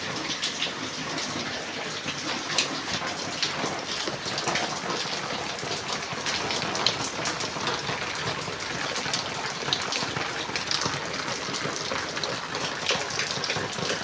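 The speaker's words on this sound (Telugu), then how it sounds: "ఘోరంగా వాన కొడుతుంది గైస్" Heavy rain pours down in a steady, dense roar with scattered louder drops hitting surfaces, loud and continuous throughout with no talking.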